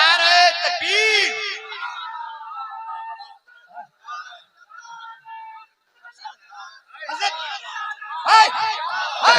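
A large gathering at an urs religious gathering in Dhanbad roars back in unison, a loud burst of massed shouting at the start and again near the end, with quieter murmuring and scattered voices in between.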